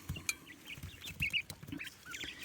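Quails in their enclosure give soft chirps and clucks, close by and irregular, over a faint rustling background.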